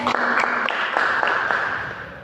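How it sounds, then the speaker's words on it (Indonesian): A class claps hands together on a teacher's cue, giving a short burst of several sharp claps over a steady background hum, fairly close and moderately loud. "Oke, tepuk tangan dulu."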